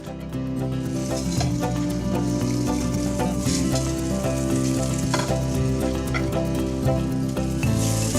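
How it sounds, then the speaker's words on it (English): Shrimps sear in a hot pan, a loud, dense, continuous sizzle that holds steady throughout with no talking. "we are ready to sear the shrimps"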